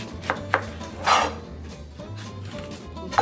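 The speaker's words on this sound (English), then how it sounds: "I'm going to start chopping my onion and chop off both ends" Knife chopping an onion, trimming both ends, for a stir fry: a few sharp, separate cuts on a board with a steady low hum underneath.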